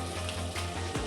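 Fish fries in a pan over low gas, giving a soft, steady sizzle with a faint low hum beneath, heard briefly and close.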